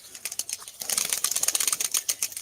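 Pigeons in a coop give a dense run of rapid fluttering and scuffling pulses, loud and close, with soft bird sounds mixed in.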